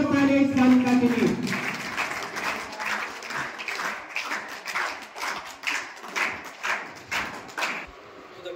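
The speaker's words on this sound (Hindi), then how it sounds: "जोरदार तालियां इस तालिका के लिए।" At a school honours ceremony in Ajitgarh, a crowd breaks into loud, sustained applause of many dense, overlapping claps. A voice speaks at the start over the clapping.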